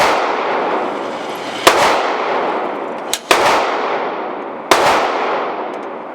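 An HK VP9 pistol fires three loud, sharp shots at a shooting range, each about a second and a half apart, followed by a ringing echo that fades before the next shot.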